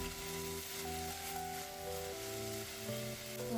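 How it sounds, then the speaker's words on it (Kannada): Grated carrots fry in a pan for carrot halwa, giving a soft, steady sizzle heard up close over a quiet melodic music bed, with no voices. "ಹಸಿ ಸ್ಮೆಲ್ ಹೋಗೋ ತನಕ ಫ್ರೈ ಮಾಡ್ಕೊಬೇಕು. ಸೊ ಇದು ಚೆನ್ನಾಗಿ ಫ್ರೈ ಆಗಿದೆ"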